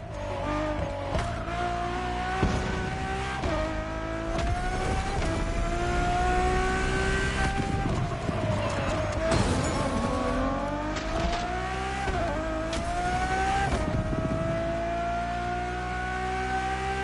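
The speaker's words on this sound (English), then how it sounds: "nothing less than a road-legal Formula One, faster on the track but more civilized on the road, Ferrari went all out" A Ferrari road-legal Formula One hypercar driving hard, its engine screaming and rising through repeated upshifts with brief dips between gears, loud and continuous over seventeen seconds, with occasional tire noise.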